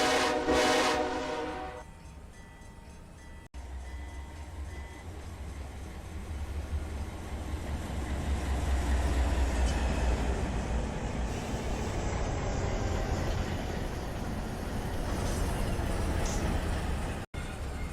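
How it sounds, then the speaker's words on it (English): Freight train in the Run8 Train Simulator game moving through a rail yard, a sustained rumbling roll with squealing wheel and brake tones rising midway and a short horn-like burst at the start, no talking. "This train to the right is coming to a stop,"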